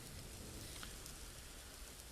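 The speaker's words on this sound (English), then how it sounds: "so it's raining in the game" Rain falling in the cooking video game Cook, Serve, Delicious, a faint, steady hiss of rainfall with soft scattered drops, constant and quiet with no talking.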